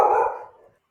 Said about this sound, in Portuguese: vocês escutaram aí um latido aí no áudio